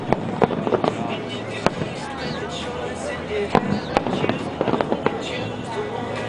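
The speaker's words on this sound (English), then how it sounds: "Hour one of the firework extravaganza here at Billy's July 4th rooftop party" Fourth of July fireworks seen from a rooftop party in Houston: repeated sharp bangs and crackling bursts at irregular intervals, with people chatting and cheering throughout.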